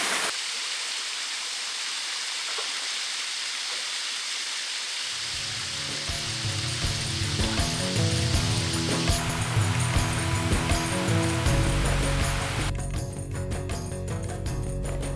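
Rushing water of a waterfall in a gorge hisses steadily, joined midway by a louder, rumbling surge; the roar stays continuous and close throughout.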